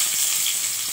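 Onion hitting hot oil in a wok for fried water spinach, giving a steady, bright, crackling sizzle, close and loud for about a second.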